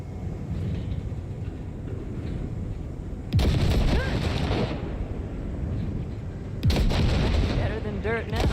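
Heavy gunfire blasts at wrecks in the Cyberpunk video game, two loud booming volleys ringing out over a rumbling engine-like background drone.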